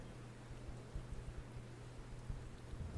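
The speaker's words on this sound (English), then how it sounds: "I love the mini sound effects in the rain." Steady rain in a film scene, a soft continuous hiss of falling drops with a low hum beneath and occasional faint thuds, fairly quiet throughout.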